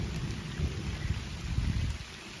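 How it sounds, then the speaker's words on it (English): Steady rain pours at a campsite beside Lake Girardeau, Missouri, with low rumbling thunder rolling underneath throughout; close, dense and continuous with no voices. "It's raining"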